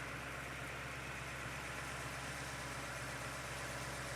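A car engine with a cast iron block repaired by welding idles at a steady, smooth, even hum, heard close and alone with no voices.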